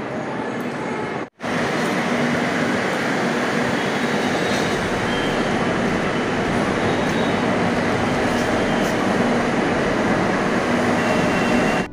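Metro train at New Garia station, with a local train sharing the same platform, rumbling steadily and loudly with broadband rail noise throughout, broken by one brief dropout near the start.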